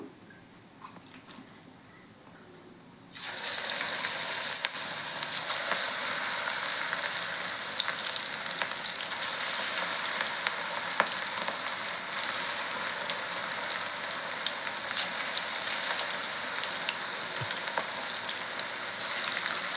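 Spinach pakoda batter drops into hot oil and starts a loud, steady deep-frying sizzle after a quiet opening, continuing evenly like heavy rain.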